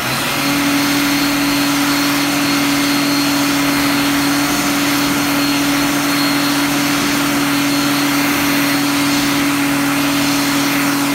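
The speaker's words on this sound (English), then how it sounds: "today we have a Bradley hand dryer" Bradley Model 220-250A electric hand dryer at Taronga Zoo in Sydney running continuously, a loud steady blowing roar with a constant motor hum, close and uninterrupted for about eleven seconds.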